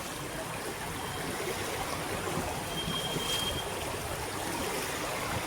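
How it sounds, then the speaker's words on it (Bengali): Heavy morning rain pours down in a dense, steady hiss, loud and unbroken throughout, with no voices over it. "সকালে আবার বৃষ্টি জোরে নামছে।"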